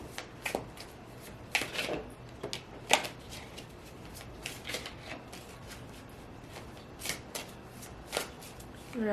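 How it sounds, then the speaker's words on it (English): Oracle cards being shuffled by hand in a quiet room, a quick irregular run of soft papery riffles and slaps, close and fairly faint, with no talking. "I'm going to pull a Messages of Love oracle card"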